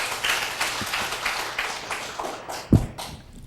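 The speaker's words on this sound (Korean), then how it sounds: "박수로 맞아주시기 바랍니다" A lecture-hall audience claps to welcome a professor to the podium, a sustained patter of many hands with a few sharper, louder claps standing out near the end.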